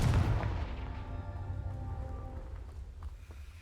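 A Confringo fire spell blast in Hogwarts Legacy, a single heavy booming impact at the start that decays into a rumbling, crackling tail.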